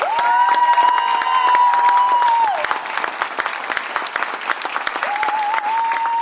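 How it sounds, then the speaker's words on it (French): Sustained applause from wedding guests honouring newlyweds dressed in traditional Breton costume at Pont-l'Abbé, dense clapping with a few cheers and a long whistled tone, steady throughout and close. "vous pouvez les applaudir"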